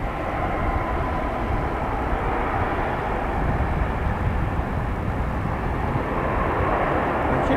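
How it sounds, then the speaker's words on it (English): Japan Airlines airliner arriving at Dallas/Fort Worth airport from Tokyo Haneda as flight 12, a loud, steady broadband jet roar holding at constant strength throughout, with no voices. "And there is our morning flight from Japan Airlines."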